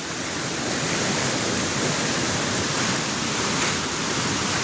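Steady, broadband rushing water, loud and continuous with no pauses, a fast river flowing close by on a hiking trail in Patag, Silay City.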